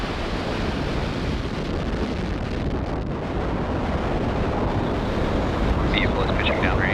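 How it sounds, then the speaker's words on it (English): A SpaceX Falcon Heavy rocket lifts off carrying ViaSat-3 with its engines at full power, a broad, continuous roar like heavy wind noise that holds steady throughout, with a faint voice near the end. "Engines full power. And liftoff of ViaSat-3."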